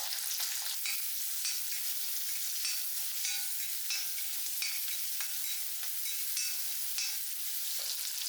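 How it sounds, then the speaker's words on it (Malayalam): Onions sautéing in hot coconut oil for a mixed vegetable curry, a continuous soft sizzle with scattered stirring clicks, fairly quiet and close, no voices. "നമുക്ക് വെളിച്ചെണ്ണയൊക്കെ ഒഴിച്ച് അതിൽ ഒന്നുകൊണ്ട് ചൂടായി വരുന്ന സമയത്ത് നമുക്ക് വലിയ ഉള്ളി അതൊക്കെ ചേർത്ത് വഴറ്റി കൊടുക്കാം"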